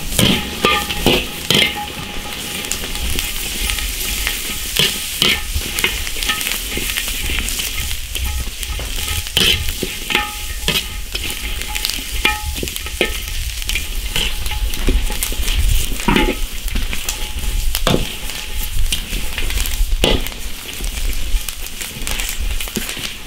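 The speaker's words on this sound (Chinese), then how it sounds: "首先把辣椒炒一下" Chili peppers stir-fried in an iron wok, with constant loud sizzling and crackling oil and repeated scraping and clinking of a spatula against the metal as they are tossed, no talking heard.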